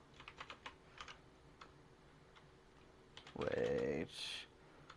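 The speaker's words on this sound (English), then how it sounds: "Okay, good typing." Quick clicking keystrokes on a computer keyboard, faint and scattered, with a louder burst of sound near the end.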